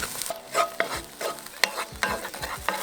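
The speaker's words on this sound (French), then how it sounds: "Et maintenant, j'ajoute l'oignon et l'ail. On va les imprégner des sucres et on va laisser dorer." Onion and garlic frying in a pot for chili con carne cooked outdoors on a grill, a soft sizzle under repeated scraping and stirring strokes of a utensil, intermittent and close.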